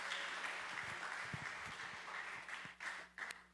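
A church congregation at a Tuesday teaching service applauds for the children, a moderate, slightly uneven patter of clapping with a few sharper individual claps near the end.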